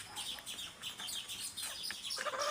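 Faint clucks and chirps from local desi chickens, nearby but quiet, come in short bursts over low background noise, with no speech.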